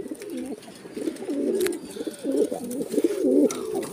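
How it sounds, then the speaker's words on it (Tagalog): Racing pigeons cooing in a loft, a steady run of low throaty coos close by, overlapping and rhythmic with no talk. "Silipin natin yung mga ibon natin mga kalapatids."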